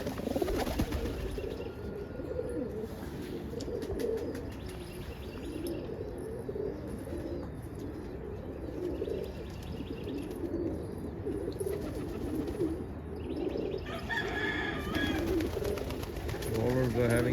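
Roller pigeons on a rainy morning give a steady chorus of low coos mixed with chirps, close and continuous, and a person talks over them.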